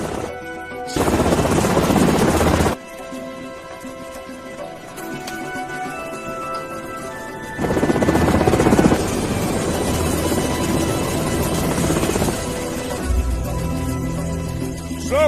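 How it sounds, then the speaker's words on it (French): A helicopter drones loudly and continuously, with heavy rotor noise swelling in bursts and tonal engine whine running throughout. "Pourquoi est-ce que notre hélicoptère n'atterrit pas?"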